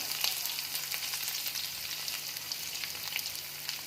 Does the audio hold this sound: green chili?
yes